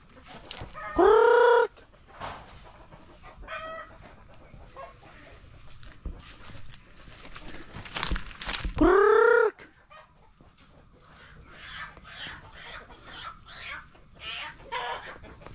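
Chickens and a rooster on a rural farm, with two loud, near crows standing out over steady background clucking and scattered barnyard noise.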